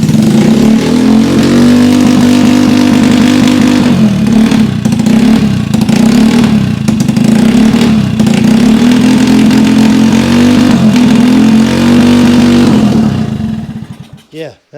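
A Honda C200 motorcycle engine, recovering from rodent damage, runs close and loud with a steady low thrum. Its revs rise and fall in several surges before it cuts off near the end.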